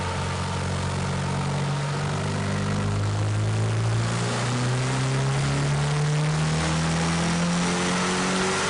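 A turbocharged car engine makes a pull on a dyno with an AEM boost controller set to 25% duty cycle, a loud sustained roar climbing steadily in pitch as the revs build.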